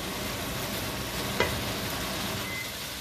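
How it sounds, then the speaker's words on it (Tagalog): Chicken fried rice fries in a pan with a loud, constant sizzle close up; a faint beep sounds once in the background. "Medyo i-fried natin siya until golden brown."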